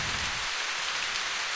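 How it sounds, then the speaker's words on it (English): Steady rain in the video game The Path, a dense, even hiss of falling drops without a break, no voices. "you can see now that it's raining"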